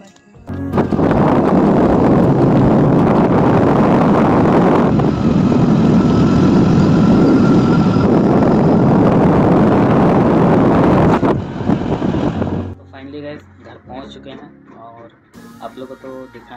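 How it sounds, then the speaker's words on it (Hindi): Wind roars loudly over the microphone while riding a motorbike home at night, a steady rushing blast that drops away near the end as the bike slows, leaving quieter background sounds. "तो ये रही गाइज हम लोग का बाइक।"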